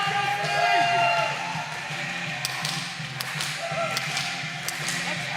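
Wrestling fans at a Dynasty Pro Wrestling show clap along to entrance music, a crowd's rhythmic claps and murmur under the playing song as a commentator talks over it.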